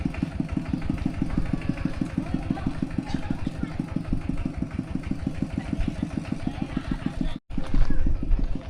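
A walking tractor's small single-cylinder engine chugs steadily at idle up close, with a rapid regular thumping rhythm and a brief dropout near the end.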